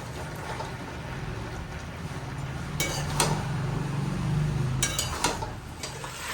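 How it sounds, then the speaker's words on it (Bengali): Mutton with tomatoes, garlic and ground cumin being stirred in a pan, a soft steady scrape and sizzle with a few sharper metallic clinks of the spoon against the pan, no talking. "এইবার সবগুলো একসঙ্গে ভালো করে কষাবো।"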